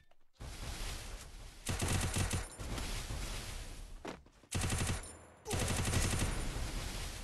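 Video game gunfire erupts in loud, dense bursts of rapid automatic shots, broken by brief pauses, with full continuous combat noise filling most of the stretch.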